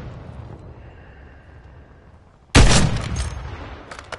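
Gunfire in Call of Duty: Warzone erupts as a sudden loud burst of rapid shots after a quieter stretch, with more scattered shots trailing off near the end.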